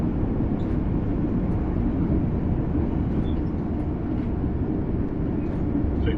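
Simulated train from Train Sim World 6 on a UK line, running steadily with a continuous low rumble and rolling drone that stays constant and fairly loud throughout, with no talking.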